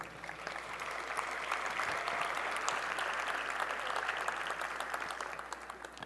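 A graduation ceremony audience gives sustained applause, dense, even clapping from a large crowd filling the hall for several seconds without fading.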